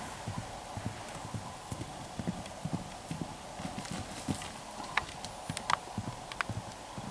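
A pony's hooves clip-clop on a cross-country jumping course, a steady series of soft, fairly close footfalls under occasional faint background voices.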